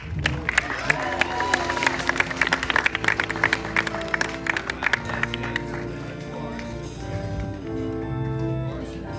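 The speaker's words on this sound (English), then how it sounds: "One more round of applause, please." Guests at a wedding clap in a brisk burst that fades over several seconds, with music and voices continuing underneath.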